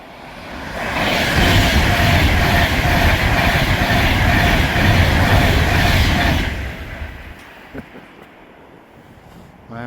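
A train passes close to a wild camp, a loud, broad rumble lasting about six seconds before fading into wind noise.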